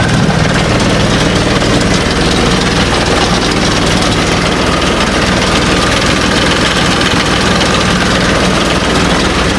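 A modified scooter engine idles smoothly and steadily at close range, a continuous even hum with no revving or speech over it.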